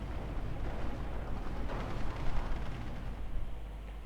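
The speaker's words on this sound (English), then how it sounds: "The artillery, where's this firing? He's just peppering the towns now." Artillery in a war strategy video game shells towns, producing a dense, continuous roar of blasts and low rumble that swells slightly midway, with no voices over it.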